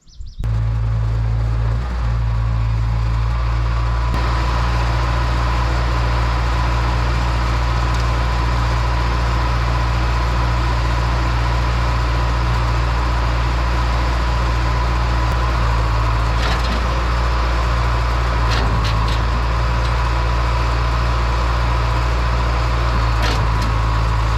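A 15,000 pound D3 bulldozer engine labors steadily while hooked up and pulling at a farm pond dam, a loud continuous low drone with occasional knocks and creaks throughout, and no voices.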